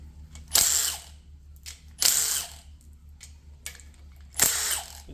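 A ratchet removing front gear bolts from a Mazda RX8 Renesis rotary engine makes three short, close bursts of rapid clicking. Quiet pauses separate the bursts, and no one speaks.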